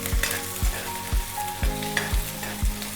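Curry leaves and green chillies frying in hot oil in a pan, a close, constant crackling sizzle punctuated by a regular beat of heavy spatula knocks against the pan, roughly twice a second.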